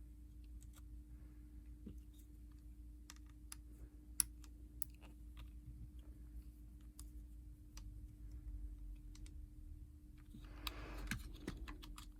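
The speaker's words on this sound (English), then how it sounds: "The screws holding in the game cards need to come out." Small screws being unscrewed from the game card slot of a Nintendo Switch Lite, heard as faint, sparse ticks and clicks over a steady low hum, with a slightly busier scraping patch near the end.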